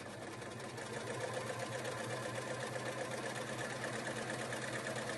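An overlocker sewing machine runs steadily while stitching a seam on short pyjama bottoms, giving a continuous close whirring hum at an even level throughout, with no talking.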